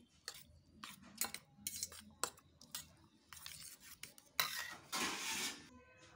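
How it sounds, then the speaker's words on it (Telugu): Beaten eggs are mixed in a bowl for egg pesarattu dosa: quiet, intermittent scraping and rubbing strokes close by, ending in a longer, brisker stretch of stirring. "ఇలా ఎగ్లు అయితే కొట్టి పోసుకున్న తర్వాత మంచిగా అయితే మిక్స్ చేసుకోవాలి."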